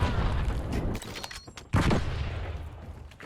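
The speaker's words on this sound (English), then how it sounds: "Incoming flashbang." A flashbang goes off in Call of Duty Black Ops 6, a loud blast with a dense burst of noise, and gunfire rumbles around it during a match.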